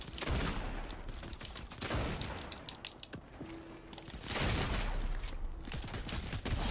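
Fortnite gunfire crackles in dense bursts of rapid shots, with two heavy volleys separated by a thinner patch of scattered pops and mechanical clicks.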